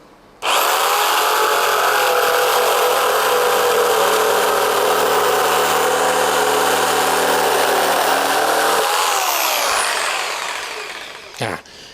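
An electric jigsaw, a 650W Kress KU462, whines loudly and steadily as it cuts through thick pine wood, holding a strained buzz for several seconds before winding down.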